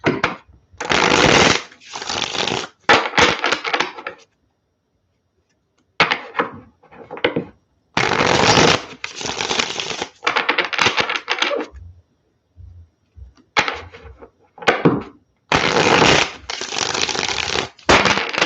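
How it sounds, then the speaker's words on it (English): Tarot cards are shuffled in quick riffling bursts, repeated several times with short pauses between, close and crisp with no talking. "Get a couple more good shuffles and see what comes up"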